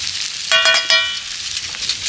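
Chicken frying in a pan for chicken kosha, a soft sizzling hiss broken by a few quick, ringing metallic clinks, like a utensil striking the pan.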